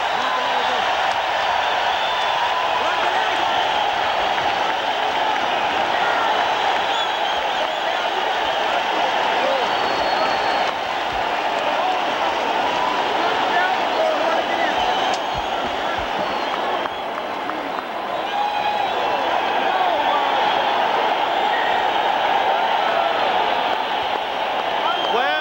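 Boxing arena crowd roaring and cheering without pause after the bell of the Jimenez vs Barrera fight, a dense sustained wall of voices and applause lasting the whole stretch.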